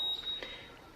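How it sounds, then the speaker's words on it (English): A house alarm's door chime sounds as a thin steady electronic beep, clear and alone in a quiet room, lasting most of a second. "That's the alarm, my house alarm."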